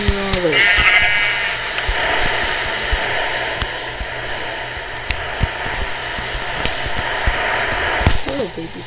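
Minecraft Pocket Edition survival play, where blocky in-game sheep bleat loudly at the start and again at the end amid clicks and soft game background noise.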